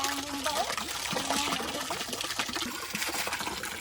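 Water from a hand pump splashes and trickles steadily in a field, a continuous wet gush with faint voices in the background.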